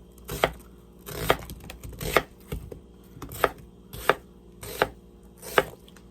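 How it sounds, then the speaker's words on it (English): A knife cuts an onion into julienne strips on a cutting board, about seven evenly spaced, firm close chops over a quiet background. "now we're gonna julienne the onion. That's just simple slices"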